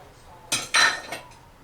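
A spoon stirring tomato and pepper paste with oil in a metal pot for chicken pilaf gives a few short scraping clinks, two louder bursts close together, then a softer one, with no talk.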